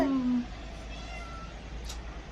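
A single cat meows once at the start, a short tonal cry in the first half second over a steady low background hum, then fades into quiet room noise.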